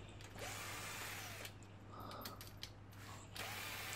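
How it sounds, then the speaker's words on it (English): A cordless drill driver unscrews bolts from a Kawasaki GPZ500 motorcycle engine during teardown, giving close, intermittent whirring and ratcheting bursts separated by brief pauses. "You're even using a drill driver, how slow you can be, man."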